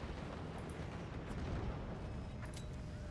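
Weapons firing in the Forts video game during a 1v1 match, a dense, loud, continuous barrage of rumbling blasts and crackling impacts with no talking.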